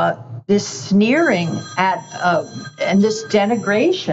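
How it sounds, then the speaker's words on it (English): A mobile phone rings repeatedly under continuous conversation, its bright trilling tones layered over two voices talking throughout. "I'm sorry, that's my phone."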